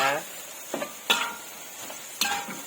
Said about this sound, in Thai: ผัดจนหอม พอกะปิสุกนะคะ